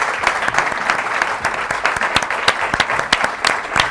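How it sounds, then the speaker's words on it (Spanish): Studio audience applause on a Spanish NBA basketball talk show, a steady dense clatter of many hands clapping at moderate volume for about four seconds, with no talk over it. "Un aplauso para él, por favor."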